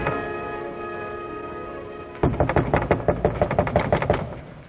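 After a steady humming tone, rapid repeated banging on a door starts abruptly in an old science fiction TV drama, a quick series of loud, close knocks continuing to the end.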